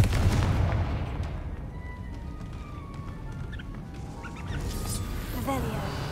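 Confringo explosive spell blast in the Hogwarts Legacy video game, a heavy booming burst at the start that rumbles and fades under ambient game sound, with a second swell of noise near the end.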